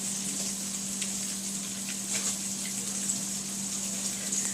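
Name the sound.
pork chops sizzling while frying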